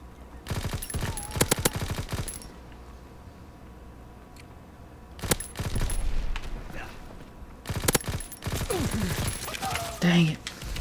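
Bursts of rapid automatic gunfire in Call of Duty: WWII multiplayer, several clustered volleys separated by quieter stretches, with voices talking underneath.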